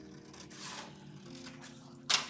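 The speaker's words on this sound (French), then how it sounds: "Je coupe." Scissors cut paper during scrapbooking: soft rasping snips with a brighter, sharper cut near the end, close and alone.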